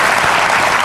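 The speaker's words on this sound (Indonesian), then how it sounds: "Kita berikan tepuk tangan untuk Pak Yusuf Kala." Audience applause for Pak Yusuf Kalla at a televised talk event, a brief, loud, steady wash of many hands clapping at once.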